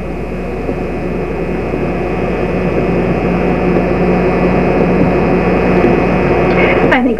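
A low steady roar of an airplane passing overhead at a seaside beach, continuous and fairly loud throughout, with a brief sharper sound near the end.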